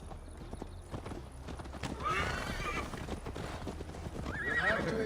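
Horse hooves clip-clop steadily in Assassin's Creed Valhalla as mounted riders set off on a long ride, with several whinnies and neighs rising over the hoofbeats and a busy outdoor game soundscape.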